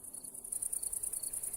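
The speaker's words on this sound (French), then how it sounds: "Un grillon, c'est ça? Vous cherchez un grillon?" A cricket chirps steadily in a field, a fast high pulsing trill that is moderately close and carries on alone with no talking.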